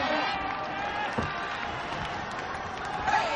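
The crowd in the Osaka Dome murmurs at a Pride mixed martial arts event, a steady broad arena hum with scattered distant shouts under a commentator's voice.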